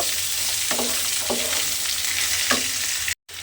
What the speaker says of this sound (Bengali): লাউটা দিয়ে এবারে খুব ভালোভাবে একটু ফোড়নের সঙ্গে মিশিয়ে নেব